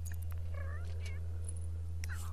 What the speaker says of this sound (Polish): Nakrzycz na tego kota.